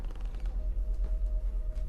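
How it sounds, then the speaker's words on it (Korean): An old door fitted with several latches creaks open in a dark, neglected house, a low drawn-out groan with faint mechanical rattling, close and alone. "걸쇠가 여러 개 걸린 문을 열고 올라가 보는데"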